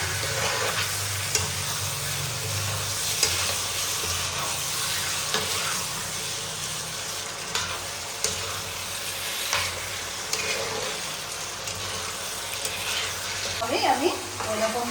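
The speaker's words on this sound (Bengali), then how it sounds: "মাংসটা ভালোভাবে কষে দিলে ভালো লাগবে খেতে।" Mutton and a whole bulb of garlic sautéing for a Bengali-style korma make a continuous, close sizzle, with repeated spatula scrapes and stirring clicks throughout.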